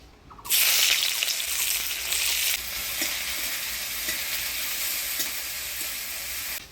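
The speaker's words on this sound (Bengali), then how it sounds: "এবার ঢেঁকি শাক ভাজা করব। ফোড়নে দিয়ে দেবো পেঁয়াজ।" Onion dropped into hot oil with spice tempering for a fry of greens, bursting into a loud, close sizzle that settles into a steady crackling hiss with occasional stirring scrapes.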